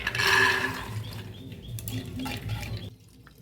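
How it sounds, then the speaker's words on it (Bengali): Water splashes briefly into a pressure cooker over chickpeas soaked since morning, loudest at the start and then tapering into softer sloshing. "আমি এখানে জল দিয়ে দেবো, খুব কম দেব না, বুট তুলনায় একটু জলটা বেশি দিলাম।"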